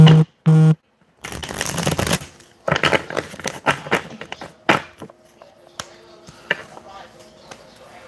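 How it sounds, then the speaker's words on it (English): Two short tones, then a burst of cards being riffled and shuffled, followed by softer taps and handling noises of a deck nearby. "Let's do a little shuffle here."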